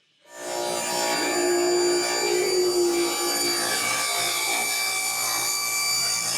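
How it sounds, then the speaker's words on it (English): A saw cuts a thin strip of maple for a spline. It starts abruptly, then holds a steady, continuous ringing whine that runs close and unbroken to the end. "Now I've got to cut the wood for the spline."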